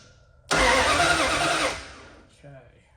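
A duct-taped dirt track car's engine cranks and catches almost at once, roaring loudly for about a second before settling and dying away, with a short voice afterward.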